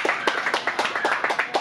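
A small group of soccer players at a training session claps briefly, a quick run of crisp, distinct handclaps at close range with a loose, fairly regular beat.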